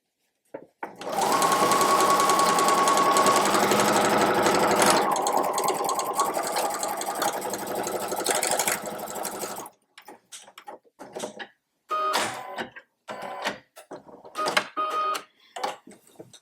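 A sewing machine back tacks a tote bag seam: one long, loud continuous run of stitching, then a string of short, choppy back-and-forth bursts close up.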